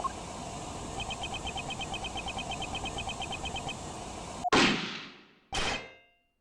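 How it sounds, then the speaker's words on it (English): A gunshot on an in-game recording in Ace Attorney Investigations 2: a row of regular chirping beeps, then a loud sharp bang with a decaying tail, and a second bang a second later. "That was a gunshot!"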